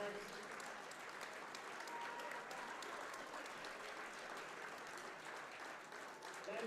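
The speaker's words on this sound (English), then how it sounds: "Let's have a nice round of applause for our seniors and our parents" A crowd applauds steadily at a Jefferson vs Kittatinny high school wrestling match during senior recognition, dense, sustained clapping filling the whole stretch at an even level.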